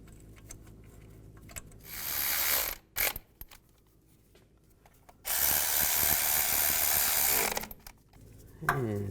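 Ratchet tightening bracket bolts during a front CV axle replacement on a 2002-2009 Chevy Trailblazer, heard as two bursts of rapid clicking, a short one and a longer one, with quieter handling noise between them.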